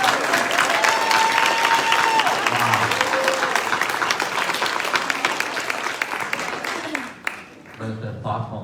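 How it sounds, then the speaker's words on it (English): Conference audience applauding for the event planner, a sustained roomful of clapping with a few tonal sounds running underneath, thinning and fading in the last seconds. "If we could just take a moment and applaud Renee"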